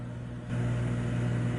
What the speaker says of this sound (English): I don't know if you can hear it over the microwave, but those are sizzling.